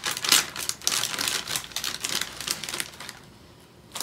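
A bag of Cocoa Puffs popcorn is cut open up close, giving a steady run of crisp crinkling and snipping bursts that fade near the end.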